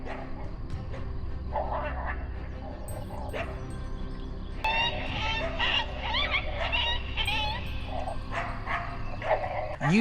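Trained hunting dogs chasing wolves bark and yip repeatedly in quick irregular bursts, some whimpering mixed in, over a low rumbling background outdoors.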